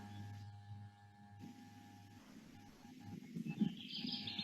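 Kirtland's warbler singing on an overcast Michigan morning, a faint, distant short song of quick bright notes over quiet outdoor background.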